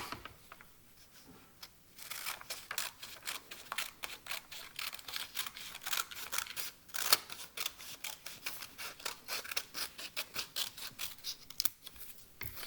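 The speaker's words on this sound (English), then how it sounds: "this extra bit that doesn't fit into your triangle, that's the part you want to cut off" Scissors cut the extra strip off folded paper in a long run of quick, rhythmic snips, close and fairly even, with no one talking.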